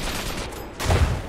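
Enemy gunfire in Iron Harvest: a dense, rumbling fusillade of distant shots under battlefield noise, swelling louder near the end of the short burst.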